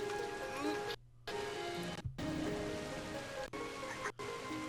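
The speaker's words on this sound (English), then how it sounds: "The rain really kills the frame rate for some reason." Steady rain hisses in the island survival video game Lost in Blue 3, a dense, continuous wash that drops out briefly a few times, with faint game tones underneath.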